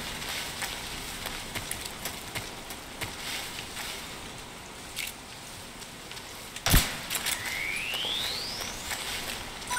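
Steady rain hisses throughout a Metal Gear Solid game scene, a soft, even wash broken by a sharp thud midway and a rising electronic chirp afterward, with no talking.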